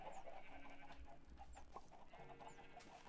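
A chicken in the Minecraft video game clucks in short repeated bursts at moderate volume over a steady game background, with no one speaking.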